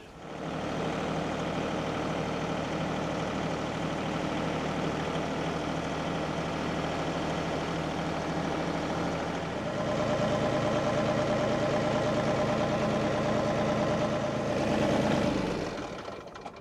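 A tractor engine runs steadily in a garden or orchard, a loud continuous drone that rises in pitch and intensity around the middle and surges briefly before easing near the end, with no talking.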